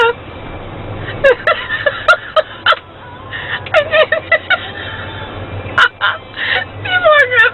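A bird, apparently a goose-like fowl, lets out repeated loud honking calls in irregular bursts, close by, with people talking in between.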